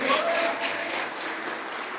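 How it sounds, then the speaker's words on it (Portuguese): Congregation in a church applauding together, a dense steady wash of clapping hands that holds at an even level throughout. "Então aplauda o Senhor."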